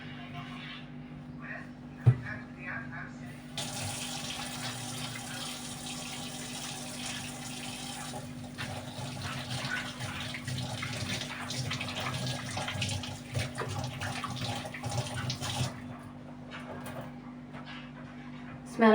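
Tap water runs steadily as hands are washed with soap at a sink, a close continuous splashing hiss with a brief knock near the start and a faint voice in the background.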